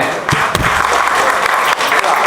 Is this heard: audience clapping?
yes